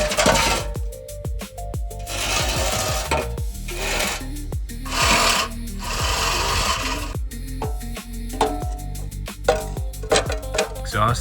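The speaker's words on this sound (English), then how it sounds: "So let's get the Sawzall out and let's start cutting." A Sawzall reciprocating saw rasps through the metal exhaust pipe of a lifted SUV in bursts of harsh, close cutting separated by brief pauses and clanks.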